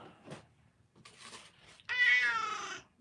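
A cat lets out one loud, drawn-out meow near the microphone after a few quieter rustling sounds.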